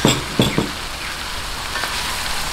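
Radish pieces dropped into a pan of softened sautéed tomato, giving a few sharp bursts of sizzle near the start that settle into a steady frying hiss.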